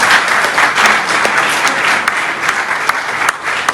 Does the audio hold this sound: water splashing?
no